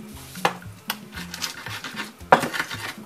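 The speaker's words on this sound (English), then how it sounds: "I'll grind this first before I add the tomatoes" Onion, chili pepper, ginger and salt ground in an asanka clay grinding pot: close, irregular knocks and scraping grinds of the wooden pestle against the ridged bowl.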